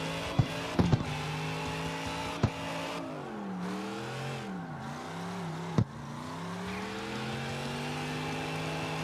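Chevelle V8 engine in the CarX Street racing game revs and drops through gear changes while drifting, pitch sweeping up and down steadily, with a few sharp clicks and no talk over it.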